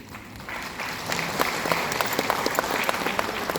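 An audience at a zonal programme in Guwahati breaks into clapping, starting soft and building into moderate, steady applause from a room of listeners, slightly distant, with faint voices beneath.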